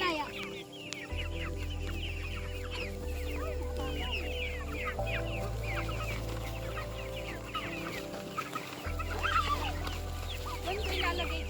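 Free-range chickens cluck and chatter close by in an outdoor farm setting, a busy continuous flock sound over a low steady hum.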